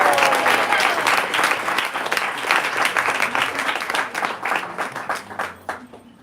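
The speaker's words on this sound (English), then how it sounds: "One more big round of applause for Vasudev." A large audience at a Bhakti Center devotional anniversary gathering in New York gives a sustained round of applause, dense and loud at first and thinning into scattered claps toward the end.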